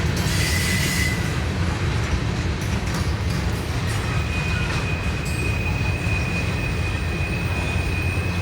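A CSX freight ammunition train rolls southbound into Parsons Yard close by, giving a loud, continuous rumble with rattling cars and a sustained high wheel squeal partway through.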